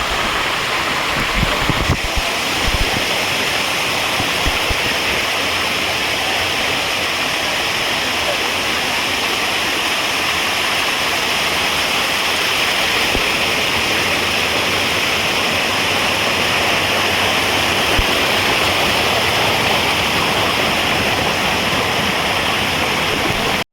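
Waterfall at Jata Shankar Mahadev roaring in a steady, loud, continuous rush of falling water, close by and unbroken for the whole stretch, with no voices heard over it.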